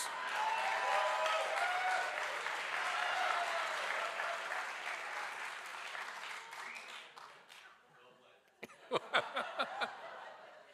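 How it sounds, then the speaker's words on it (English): A gala audience breaks into sustained applause that gradually fades, followed near the end by a few loud, scattered individual claps. "So let's give him a round of applause."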